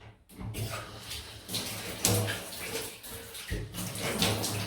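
Shaving razor rinsed under running water from a tap after a wet shave with soap and brush, a steady close splashing rush with brief changes as the blade moves through the stream.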